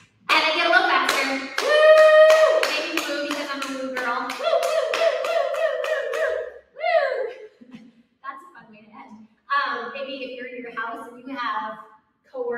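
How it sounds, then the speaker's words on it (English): Hands clapping during a group workout, starting slow and picking up speed, the claps loud and close, with an instructor's voice speaking over them and some background chatter toward the end. "Clap your hands. And then get a little faster."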